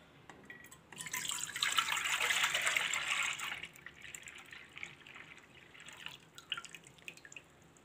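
Two kilos of raw, undiluted milk pour into a kadhai, a steady splashing gush that swells after the first second, holds for about three seconds, then trails off into softer dribbles and drips. No one speaks.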